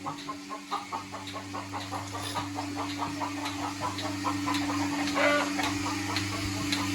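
A chicken clucks in a steady series of short, soft calls close by in a village coop, over a constant low electrical hum.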